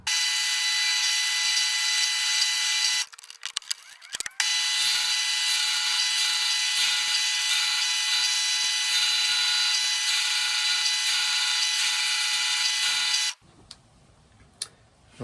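A power drill bores holes into a guitar headstock, a loud, steady high-pitched whine running for several seconds, briefly dipping once and stopping before quieter handling noises at the end.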